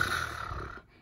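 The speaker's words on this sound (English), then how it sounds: "began to snore like thunder" A single rough, rumbling snore, brief and moderately loud, trailing off into quiet.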